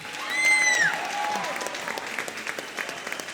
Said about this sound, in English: How about a round of applause for our duet in there